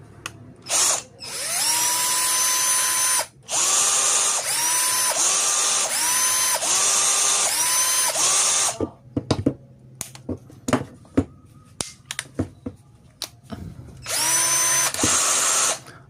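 A cordless 12-volt Ecosen drill whirs in several loud bursts of a few seconds each. Sharp clicks and handling taps fill the gaps, and a final burst of running comes near the end.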